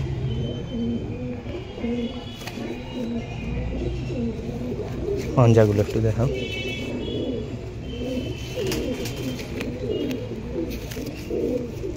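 Pigeons coo softly and steadily in a loft of Pakistani pigeons, heard close and continuous while someone talks over them in Bengali.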